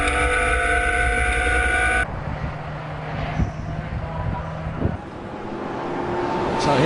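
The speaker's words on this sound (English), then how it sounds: "So here comes this gaggle of Boxsters, very much involved in their mix." A pack of Porsche Boxster race cars passes on the Silverstone circuit. Steady, loud engine roar and wind rush fill the first two seconds and then drop to a quieter drone, with brief bursts as cars go by.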